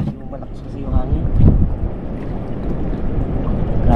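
Strong wind ahead of a typhoon buffets the microphone in a loud, rumbling roar, with water, waves and boat noise churning underneath throughout.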